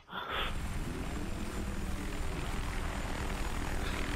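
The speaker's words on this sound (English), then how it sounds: "Wait a minute, there's a helicopter." A helicopter in the video game Battlefield 3 gives a steady, loud rotor-and-engine drone that starts abruptly and holds continuously throughout.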